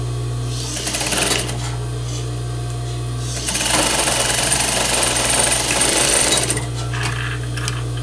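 Sewing machine stitching a simple seam on fraying fabric, a steady close mechanical whir that swells louder in the middle stretch and then settles back, with no talk over it.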